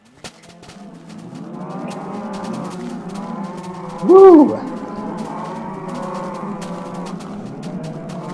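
Many cows mooing in a crowded Minecraft video game farm, a continuous overlapping drone of low moos with one brief louder call, and a voice exclaiming once.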